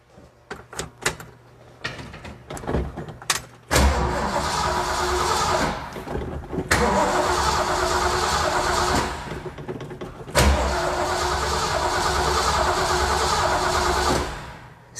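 An old car with a nearly 400-horsepower engine, drum brakes and worn tires cranks with a few clicks, then roars loudly to life, with repeated revs and surges close by.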